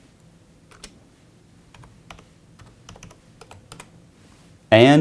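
Light clicks of computer keys typed one at a time at an irregular pace in a quiet room, ending with a sudden loud burst of noise.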